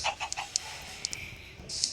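Chickens on a small farm give a few faint, short clucks at irregular intervals over quiet background noise.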